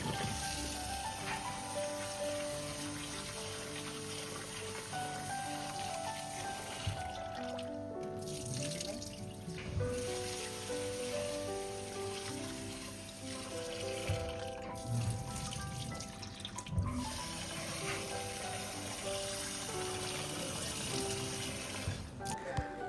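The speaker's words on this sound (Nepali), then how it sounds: "सफासँग 2-3 पानीमा धुनु होला।" Toor dal being rinsed by hand in water in a bowl or sink, with steady running-water and sloshing sounds under a faint background, continuous throughout with a few brief louder splashes.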